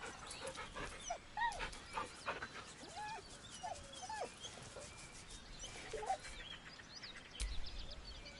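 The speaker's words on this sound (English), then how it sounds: "With a deep, heartbroken whine, the dog bows his head." A dog in Baldur's Gate 3 whimpers and whines in a series of short, rising and falling cries, moderately close and steady over soft background noise, with faint bird-like chirps scattered through.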